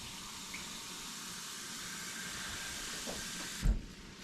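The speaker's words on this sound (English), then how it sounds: "So now, on top of that, we're gonna add 2 cups of water." Two cups of water pour into a pot of Puerto Rican rice with pigeon peas, a soft steady hiss close by that ends with a brief clunk.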